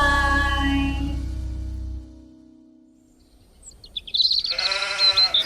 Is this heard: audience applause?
no